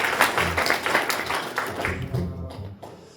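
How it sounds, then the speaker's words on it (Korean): An audience at a maritime labor unions' policy forum claps, a crowd applauding in a lively burst that gradually thins into scattered claps and dies away. "박수 한번 쳐드릴까요?"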